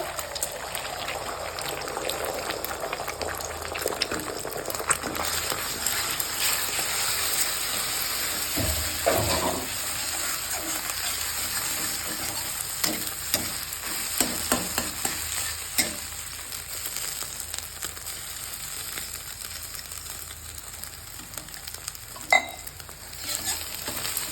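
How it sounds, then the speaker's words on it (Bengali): An egg fries in a pan with a steady close sizzle, punctuated by scraping stirs and a few clinks, and no one speaking. "হালকা করে ভেজে নেবো।"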